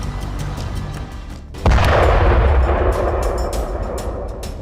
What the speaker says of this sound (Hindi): आज एक बार फिर एयरफोर्स ने शहर पर मिसाइलें दागी।